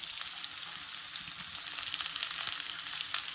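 Chopped onions and cumin seeds fry in hot oil, a loud, continuous hissing sizzle that stays close and steady with small crackles throughout.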